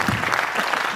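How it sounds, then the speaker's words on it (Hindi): Hearty applause from an audience at a comedy poetry recital by a Hindi humour poet, steady and dense throughout the short burst, with no voices over it. "एक बार आप ताली बजा दीजिए जोरदार।"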